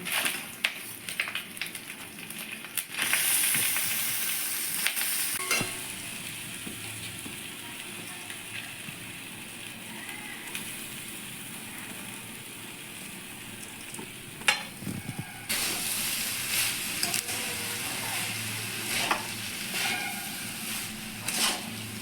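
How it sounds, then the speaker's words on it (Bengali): Basmati rice frying with ginger in a pan gives a steady, close sizzle with occasional stirring scrapes throughout, and no talking. "চালটাকে ভেজে নিতে হবে"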